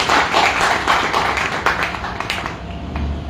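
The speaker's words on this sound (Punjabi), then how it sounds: "ਇੱਕ ਜ਼ੋਰਦਾਰ ਤਾੜੀ ਸਰਗੀ ਪਰਿਵਾਰ ਦੇ ਲਈ" An audience applauds at the 35th anniversary gathering of the Sarghi Kala Kendra arts group, a loud dense burst of clapping from many hands that tapers slightly toward the end.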